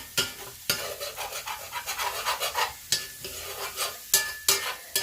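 Chopped large onion sizzling in leftover fat from ground meat in a pan, a steady crackling fry broken by sharp scraping stirs and clinks of a utensil against the pan at a few points.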